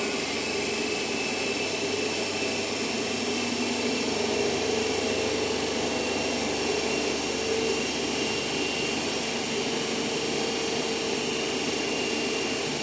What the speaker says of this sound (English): The motor is brought to its rated speed by gradually cutting in the rheostat R1.